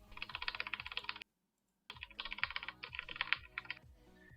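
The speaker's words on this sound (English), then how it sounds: "Keyboards such as these, your best option is to mash keys" Computer keyboard keys mashed rapidly and hard in dense bursts of clacking, with a brief silent gap partway through, close and fairly loud with no talking.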